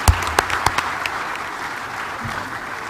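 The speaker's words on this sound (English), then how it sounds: "So please, let's give them an applause for this." An audience at a conference plenary on Africa's drone economy applauds a panel with a few sharp claps up front, then a steady wash of clapping across the room that stays fairly loud.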